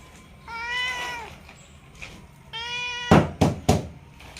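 A house cat gives two distinct meows close by, pausing between them, followed by three sharp knocks or taps in a quiet room.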